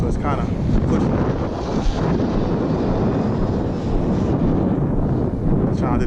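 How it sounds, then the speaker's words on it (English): Steady outdoor wind roars and buffets the microphone across the whole stretch, a dense continuous rush with no break, recorded during a Team Associated DR10 RC car speed run and wheelie. "the wind is blowing, so it's kind of pushing her"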